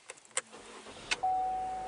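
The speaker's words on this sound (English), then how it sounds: "Start the engine, wait 5 seconds." A few soft clicks and a brief rattle, then the engine of a 2021 car cranks and catches, settling into a steady idle hum.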